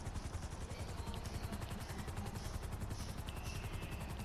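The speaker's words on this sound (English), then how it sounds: "I'm sure helicopters aren't this hard to land in real life" Helicopter landing in GTA Online, a steady rotor thrum with rapid chopping pulses, continuous and fairly quiet, with no talk.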